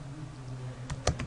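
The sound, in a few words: typing on a computer keyboard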